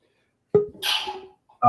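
A single close, forceful sneeze: a sharp intake burst, then a noisy exhaled blast, followed by the start of a voice.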